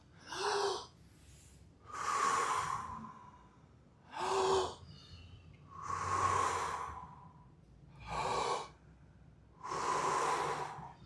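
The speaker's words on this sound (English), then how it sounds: "Big inhales, big exhales, in and out through your mouth." Deep, fast breaths in and out through the mouth during a Tai Chi-inspired breathing exercise, six loud, close breaths alternating sharp inhales and longer exhales in a steady rhythm, with no talking.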